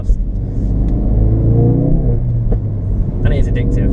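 A Ford Focus RS accelerates hard, its engine note rising in a strong, close rumble and whir as it revs out, with someone talking over it.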